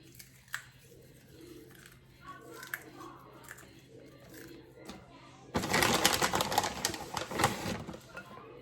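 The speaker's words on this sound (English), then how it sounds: "I like to crunch them up as small as I can" Nuts being crunched into small pieces for vegan banana muffins, a sudden loud burst of dense crackling and crushing lasting a few seconds, preceded by quieter kitchen handling and a person talking.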